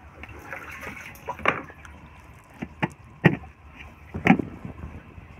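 Water is poured and splashed while mixing a crop spray for a mung bean field, with irregular gurgling bursts and a few louder splashes close by.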